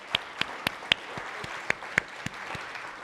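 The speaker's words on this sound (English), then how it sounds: "please join me to give another big round of applause to our speakers" Audience applause for the speakers at an academic forum in Hong Kong, a spread of sharp individual claps with a few louder close hand claps standing out over a soft, steady patter of clapping.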